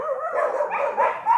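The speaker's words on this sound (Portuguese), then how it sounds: "Até os cachorros respondendo." Dogs barking and yipping in a continuous, fairly close run of overlapping calls, with a whimpering, high-pitched quality and no speech over them.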